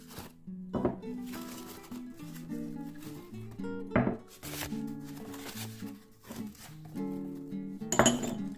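Four small ceramic dipping bowls clink and knock against each other in a series of bright, close taps and rattles as they are handled, with a few sharper clinks standing out.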